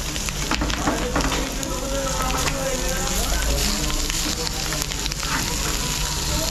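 Large gaboli fish frying in a new pan, a steady close crackling sizzle of hot oil that holds evenly throughout with no pauses.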